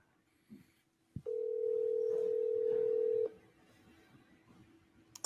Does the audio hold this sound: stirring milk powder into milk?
no